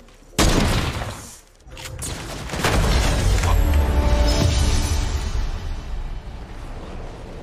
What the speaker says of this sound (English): Sacrificial rocket.